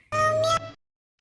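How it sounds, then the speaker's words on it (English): A single drawn-out recorded cat meow played back, clear and fairly loud, lasting under a second before falling silent. "Sad cats singing to hits."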